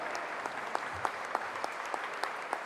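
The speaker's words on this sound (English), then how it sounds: "A big round of applause, dear friends." Audience applause at an endowment lecture, a steady wash of many hands clapping with a few sharper individual claps standing out, moderately distant and without talk.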